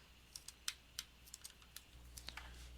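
Light, quick typing on a computer keyboard while filling in a name on a draft plan, a dozen or so soft clicks in an uneven rhythm over a low steady hum, close and quiet.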